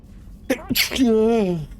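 A single person's sneeze, a sharp intake followed by an explosive burst and a trailing voiced tail, close and loud over faint background hum during a Mass Effect 2 gaming session.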